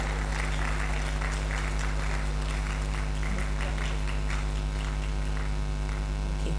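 Audience applause for participants at the Sochi Climathon 2024 event, a steady wash of clapping partly masked by a strong electrical mains hum throughout.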